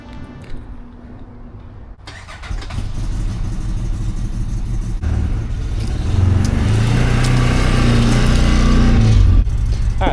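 A 2025 CFMoto Uforce 10 UTV starts and pulls away on a test ride, with the engine rumbling loud and close and building steadily as it revs and picks up speed.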